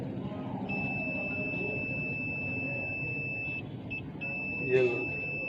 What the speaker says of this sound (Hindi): हमें बीप का सायरन सुनाई दिया।